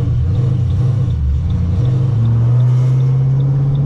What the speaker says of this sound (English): we are currently inside my 2008 Mustang GT. It's cammed.